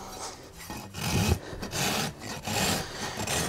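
A farrier's rasp filed across a horse's hoof during a trim, producing close, rhythmic scraping strokes in a steady back-and-forth pattern with brief gaps between passes.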